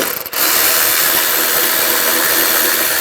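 An 8mm socket ratchet backing a screw out of a 2006-2009 Mercedes-Benz E350 during headlight removal, a close, dense, continuous rasping clicking after a brief pause at the start, loud and alone.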